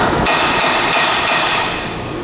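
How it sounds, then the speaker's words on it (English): Four sharp metallic hammer taps at an even pace on a Pontiac G8 upper control arm, ringing close and loud against a steady background hum. "just take a hammer"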